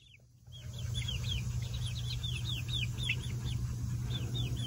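Several chickens cluck and chirp in quick, overlapping calls in a pen over a steady low hum, close by and continuous.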